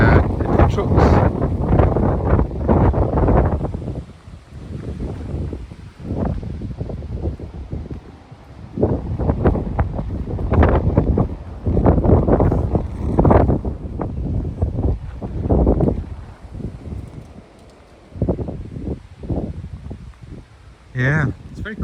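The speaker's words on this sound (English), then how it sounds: "Still very windy, it's been windy over the weekend." Strong gusts of wind buffet the microphone at a desolate former coal mine site, producing loud, uneven low roaring bursts that rise and fall throughout, with occasional voices underneath.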